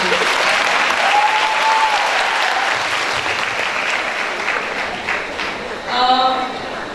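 A large youth convention audience in Valsad, Gujarat claps together, a loud continuous roar of applause with a brief whistle-like tone rising near the end.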